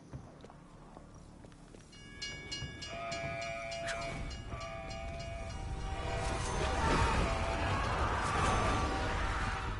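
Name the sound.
train passing in Call of Duty Cold War Zombies video game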